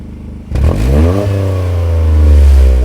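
Toyota GR Corolla fitted with an MST Performance downpipe, its engine snapping up from near silence to a loud, sustained rev around 4,000 RPM, a close, rich exhaust drone holding steady with no talk over it.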